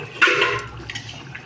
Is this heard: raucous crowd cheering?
no